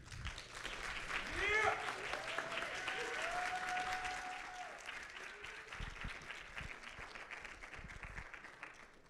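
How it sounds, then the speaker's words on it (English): A TEDx audience breaks into sustained applause, a loud, even roar of many clapping hands that swells early and then slowly tapers, with a brief voice heard under it. "Let's give her a round of applause."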